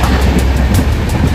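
A moving train rumbles steadily on the route from Madurai to Rameswaram, heard from the open footboard, with a loud, continuous roar of wheels and wind and faint rhythmic clatter throughout.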